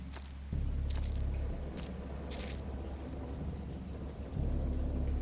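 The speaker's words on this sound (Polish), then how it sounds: "Deszcz zaczyna padać, kurde." Steady rain pours down with rolling thunder building underneath, a low continuous roar that swells at moments, with brief bright crackles of nearby rainfall and no voices.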